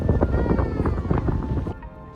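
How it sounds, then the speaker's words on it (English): Wind gusting during a storm on the Isle of Skye in Scotland, a loud rushing roar with buffeting against the microphone for about two seconds before easing. "It's windy and rainy because there's a storm"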